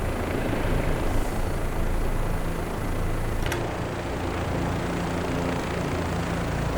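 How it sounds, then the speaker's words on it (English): OH-58D Kiowa helicopter flying in a flight simulator game, a steady dense rotor and turbine drone that stays loud and even throughout, with one brief sharp click partway through. "It's really beautiful to fly this helicopter."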